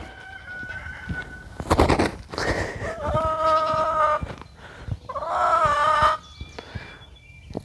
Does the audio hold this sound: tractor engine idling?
no